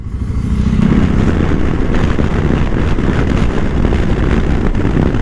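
A VOGE 650 DSX single-cylinder motorcycle cruising at steady speed, a loud continuous low engine drone mixed with heavy wind rush across the microphone, with no voices.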